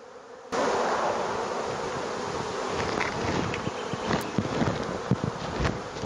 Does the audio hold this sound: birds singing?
no